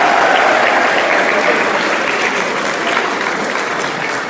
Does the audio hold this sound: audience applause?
yes